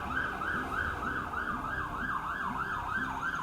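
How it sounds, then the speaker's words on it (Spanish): Ambulance and police car sirens pass by, a steady rising-and-falling wail repeating about twice per second, loud and continuous with a lower siren tone beneath and no talking. "mientras pasa la ambulancia y la policía que sigue pasando por acá"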